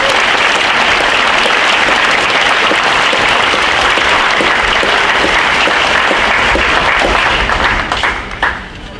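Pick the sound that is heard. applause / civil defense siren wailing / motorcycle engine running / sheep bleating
applause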